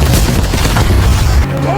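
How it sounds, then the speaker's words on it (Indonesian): Dense gunfire and explosive booms from an attack-drone assault in an action movie, a loud continuous barrage of blasts and shots that cuts off abruptly near the end. "Pas pampres ditembak dan diledakkan."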